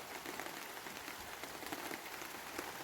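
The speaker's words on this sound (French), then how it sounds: "je vais vous mettre une petite minute de pluie" Steady rain patters densely on a surface, a soft, even hiss of drops that stays constant throughout, with no voices.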